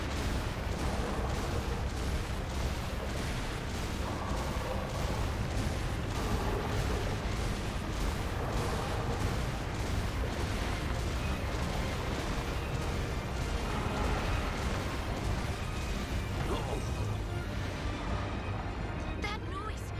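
Heavy, rumbling booms from a cannon firing in the video game Wild Hearts, repeating steadily under a thick, continuous layer of game noise at high level.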